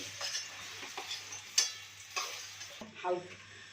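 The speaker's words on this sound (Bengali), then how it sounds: "কুমড়াটা আর আলুটাকে একটু হালকা করে ভেজে নেবেন" Pumpkin and potato pieces frying lightly in oil for a mixed vegetable curry with drumstick, a soft steady sizzle with a few stirring scrapes and taps of a utensil against the pan, close by and fairly quiet.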